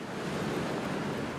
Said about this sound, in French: Et les vagues sont super.